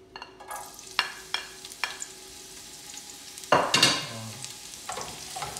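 Onion frying in a pan for chicken adobo fried rice, a steady sizzle broken by clinks and scrapes of stirring, with a louder burst of crackling midway as the onion hits the hot pan.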